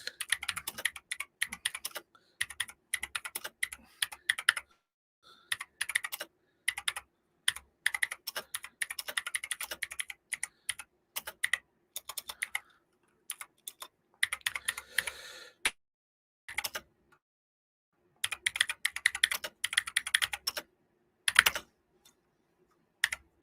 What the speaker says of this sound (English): You'll hear lots of typing and stuff.